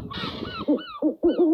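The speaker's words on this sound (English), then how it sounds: "Owl." Loud, close hooting calls from an owl, a breathy opening followed by three short tonal hoots in an uneven rhythm.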